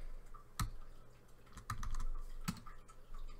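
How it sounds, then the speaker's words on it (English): Quiet typing on a computer keyboard, with a few scattered key clicks and a couple of sharper taps over a soft, steady background. "now let's type in letters"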